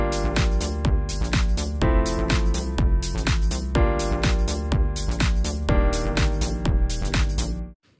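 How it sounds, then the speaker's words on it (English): A synth bass line made in BandLab's web studio steps through the root, third and fifth of each chord in a steady, bouncy pattern, loud and upfront with a full backing track for about eight seconds before stopping abruptly. "I could use the technique of sounding out the root, third, and fifth for the whole chord sequence."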